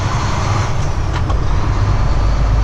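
A heavy haul truck carrying a 30,000-pound load drives through the gears, heard from the cab as a loud, steady low engine drone with road noise and no talk.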